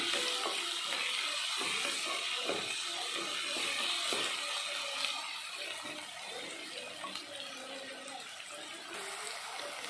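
Upma ingredients fry in a pan with a steady, close crackling sizzle that runs throughout, dense and hissing with small pops and a slight easing toward the end.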